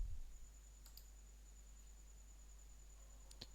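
Two faint, crisp mouse clicks, one near the start and another near the end, while an installer is being stepped through; otherwise a quiet background with low hum and no talking.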